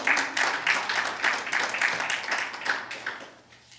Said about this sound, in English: Give our choir another round of applause under the direction of Miss Galetta Gillespie, our music director,